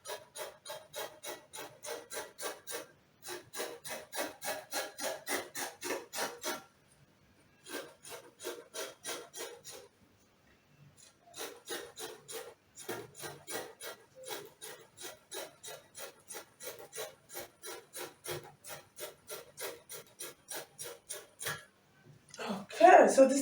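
Scissors cutting fabric for puff blouse sleeves, with repeated rhythmic snipping and rasping strokes in bursts separated by short pauses, close and fairly quiet.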